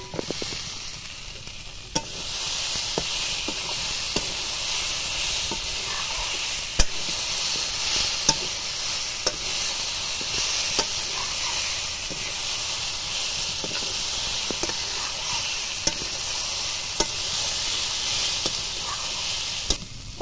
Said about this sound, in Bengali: পটলগুলো দেব, দিয়ে আরেকটু কষাবো